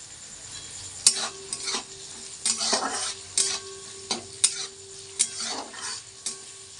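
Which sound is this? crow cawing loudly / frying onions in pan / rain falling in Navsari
frying onions in pan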